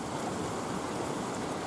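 Rushing water from a waterfall in the Wicklow mountains, a steady broadband wash held at an even level for the whole moment, fairly faint and without voices.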